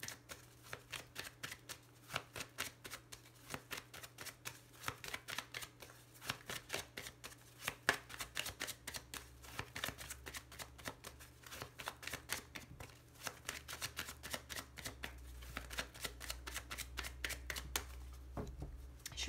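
Lenormand cards are shuffled continuously at close range, a dense run of soft rapid riffling flicks in an uneven rhythm, fairly quiet, with a low steady hum underneath.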